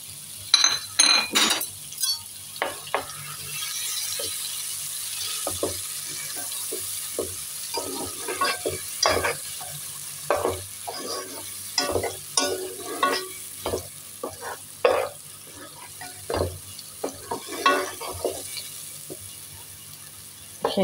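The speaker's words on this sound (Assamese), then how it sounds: "এইখিনি অলপ ভজা হ'ব দিওঁ" Onion gravy for kabuli chana ghugni frying in a pan, with a steady low sizzle beneath repeated sharp clinks and scrapes of a utensil stirring against the metal, close and fairly loud throughout.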